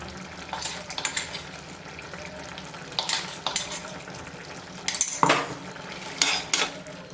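A spoon scrapes and clinks against a pot as roasted ground spice powder is stirred into brinjal kootu, with intermittent metallic scraping bursts over a low simmering bubble.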